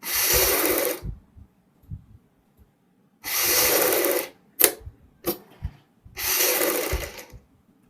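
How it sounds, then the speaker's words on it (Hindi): A sewing machine runs in three steady bursts of stitching along the neck strips of a kurti, separated by pauses with soft handling clicks and fabric shuffling. "इसके ऊपर हम सिलाई लगाएंगे और सभी पट्टी को यहाँ पे हम फिक्स करेंगे"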